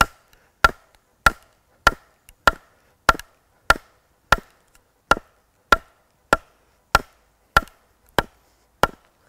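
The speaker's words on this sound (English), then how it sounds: "I can hear little fractures coming. I can see the crack. I can hear it separating in there." Steady series of sharp axe chops into wood while carving a spoon, about fourteen crisp, evenly spaced strikes, each a close, loud crack followed by silence.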